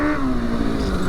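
Heavy 1000cc tuk tuk built up like a dirt bike, its engine running loud and close with a steady, throaty idle drone.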